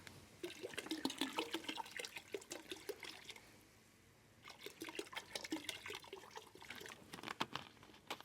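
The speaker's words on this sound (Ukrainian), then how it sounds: "Тепер додаємо чашку оцту." A cup of vinegar pours and splashes into water in bursts, with a short pause midway before the pouring resumes.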